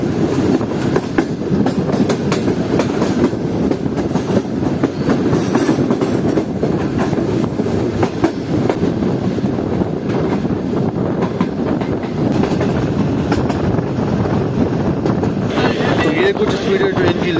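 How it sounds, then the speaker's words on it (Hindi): The Karachi Express train runs at a good speed on rails after leaving Lodhran Junction in Pakistan. A loud, constant rolling roar comes from inside the moving train, with rhythmic wheel clatter and wind noise, and someone talks over it throughout. "कुछ स्पीड है ट्रेन की लोधरा जंक्शन को छोड़ने के बाद, काफ़ी अच्छी स्पीड में आगे बढ़ रही है।"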